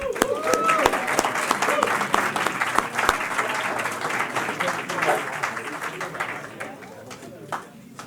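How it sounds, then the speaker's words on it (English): An audience applauds musicians at the Fairport Alumni Wall of Fame induction ceremony, with dense, steady clapping that fades toward the end and some voices mixed in. "how about a quick round of applause for our amazing musicians?"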